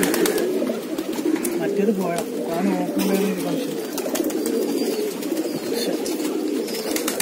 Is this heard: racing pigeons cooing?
yes